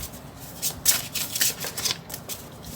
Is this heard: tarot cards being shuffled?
yes